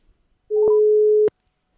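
A single steady telephone ringing tone sounds clear and loud for under a second while an AI voice agent is being called, opening and closing with soft clicks amid silence.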